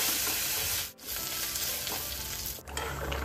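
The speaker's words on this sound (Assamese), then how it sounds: "পনীৰ কেইডোখৰ অকণমান ভাজি লৈছোঁ" Paneer pieces fry in a pan with a dense, close sizzle throughout, dipping briefly twice as the pieces are stirred or moved.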